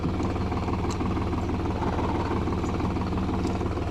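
A New Holland T580B tractor engine, four-wheel drive not fully disengaged, runs with a steady, continuous low drone and a faint rhythmic throb at constant loudness, with no talk over it.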